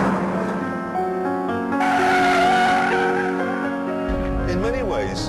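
An Abarth 500, a small fast hatchback, cornering hard with loud engine drone and tire noise throughout, rising in the middle and ending in a squealing skid; a voice talks over it.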